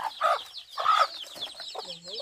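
Chickens on a farm give a few short clucking calls in bursts, close and moderately loud, with a low throaty note near the end.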